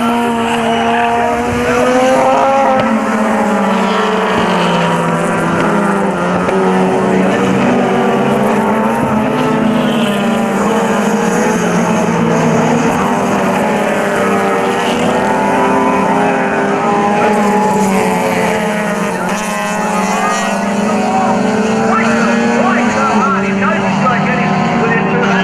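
Club race cars, including a rotary-engined car, scream past at Oran Park in 1996, a dense sustained engine howl with shifting pitches as the field races, commentary running underneath.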